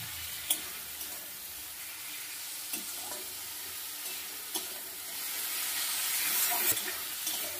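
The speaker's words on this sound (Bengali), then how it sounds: "এবার ভালো করে কষাবো, রসুনের যেন কাঁচা গন্ধটা না থাকে" Garlic paste sautés in a pan for a Bengali chhyachra dish, a continuous oily sizzle punctuated by sharp spoon taps and stirring scrapes, with the frying growing louder toward the end.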